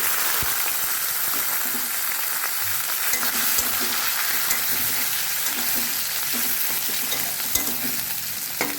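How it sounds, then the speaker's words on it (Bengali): Chopped onion fries in hot oil after a dried-chilli tempering for a chicken kosha, giving a steady close sizzle broken by scraping stirs of a utensil, with no talking. "দিয়ে দেব পেঁয়াজ কুচি পেঁয়াজটা একটু লাল লাল করে ভেজে নেব"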